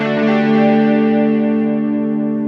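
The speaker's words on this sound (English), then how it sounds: "You know what I really like is the poly distortion." Boss SY-1000 guitar synthesizer set to its poly distortion effect: a single sustained, heavily distorted chord rings out loud and alone, thick with harmonics, slowly fading over about two and a half seconds.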